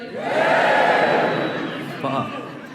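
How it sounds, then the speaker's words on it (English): Stand-up comedy audience answering a call to cheer, a loud swell of crowd cheering and shouting that fades, with a voice cutting in near the end. "Give me a cheer if you agree with that statement"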